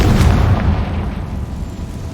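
A Confringo fire spell blast in Hogwarts Legacy erupts as a loud, close boom with a heavy low rumble that fades over about two seconds.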